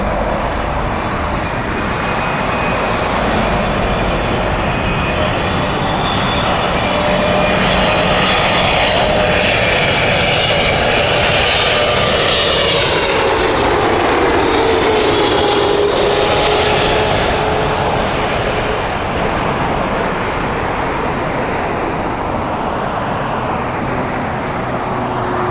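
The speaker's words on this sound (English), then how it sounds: "This is the 777-300 and it's Speedbird" A British Airways Boeing 777-300, Speedbird 18 Alpha, comes in to land at Heathrow, its loud, steady jet roar swelling and sustaining with a falling whine as it passes near, no voices.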